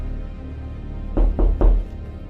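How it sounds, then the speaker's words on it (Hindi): Three quick knocks on a door, evenly spaced and fairly loud, with a dull thudding body, set against a low steady background rumble on a stormy night in a Hindi horror cartoon. "तभी दरवाजे पर किसी ने दस्तक दी"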